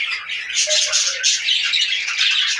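White budgerigar in a cage giving a continuous run of shrill squawks and chirps, bright and fairly close, with no talking over it.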